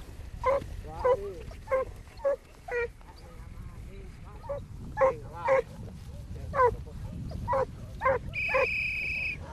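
A hunting bitch barks on a wild boar hunt, a run of sharp, fairly close barks at an uneven rhythm, with faint outdoor noise between them.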